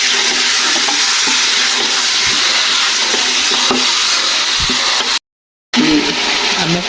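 Beef sizzling and frying in a pot while being stirred, a loud, dense, steady hiss close by with occasional scraping knocks and a brief dropout near the end.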